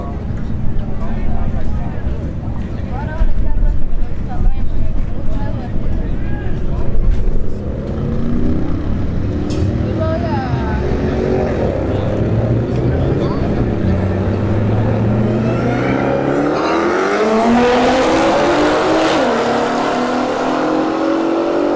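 Nissan GT-R and Dodge Hellcat launching in a street drag race at Bradenton Motorsports Park, loud engines revving and climbing through gear changes with rising pitch sweeps, talk mixed in early on.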